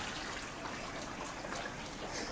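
Water flowing from the overflow collector outlet toward a drum filter unit in a recirculating aquaculture system settler, a steady soft trickling wash that continues unbroken and fairly quiet throughout.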